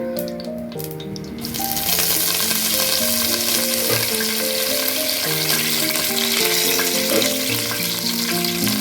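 Curry leaves and dried red chillies hit hot oil with spices, setting off a sudden loud sizzle that holds as a steady crackling fry, with faint stirring and no talking.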